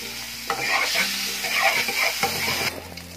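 Ginger garlic paste being stir-fried in ghee in a kitchen pan, a continuous near sizzle with rhythmic scraping and tapping of a spoon against the pan, no speech.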